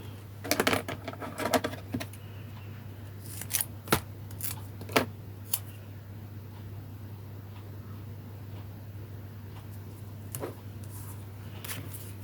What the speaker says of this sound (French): Et je vais encore couper un petit bout.